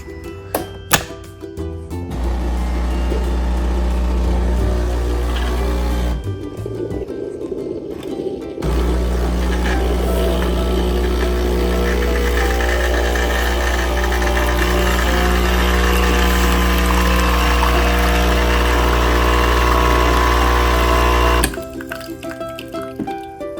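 A CASABREWS espresso machine with built-in grinder runs its 20-bar pump and 1500-watt motor, a loud steady electric hum and buzz lasting about twenty seconds, with brief pauses near the start and a sudden stop at the end.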